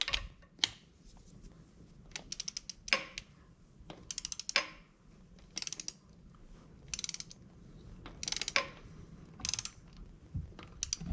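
A torque wrench ratchets in short clicking bursts while tightening fasteners to a set 25 pounds on a VR Commodore ute engine during valve stem seal replacement. The bursts are close and sharp, separated by brief pauses.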